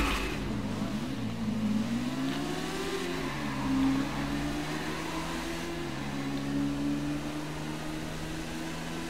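Motorcycle engines in GTA 5 Online rev and whine steadily in pitch, rising and dipping through gear changes, at moderate loudness with a few faint background sounds.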